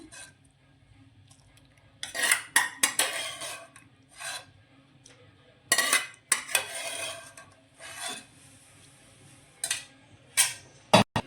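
Boiled peas are stirred into a pot of seven-grain khichdo, giving irregular bursts of scraping and rubbing from a spoon against the pan, with quiet pauses between strokes.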